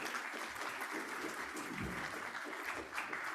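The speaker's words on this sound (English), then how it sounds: "So give them a round of applause." Applause from a law conference audience after a panel, a steady dense wash of clapping filling the room at moderate volume, with a few faint voices mixed in underneath.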